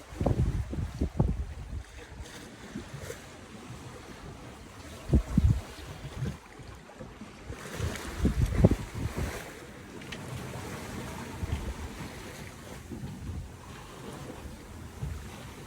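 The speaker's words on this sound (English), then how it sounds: "except for the sound of the ocean and creaking sound of the boat. Or the flogging of the sail, I should say." Sailboat under way at sea on a passage toward Hilo, with wind buffeting the microphone, surging waves and water rushing past the hull, plus intermittent low thumps and flapping from the boat and sail.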